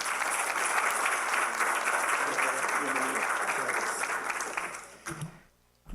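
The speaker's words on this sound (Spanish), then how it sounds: "¿Me acompañan a recibirlo con un gran aplauso," Audience applause welcoming a speaker, a sustained wash of many people clapping that fades out near the end, with a few voices underneath.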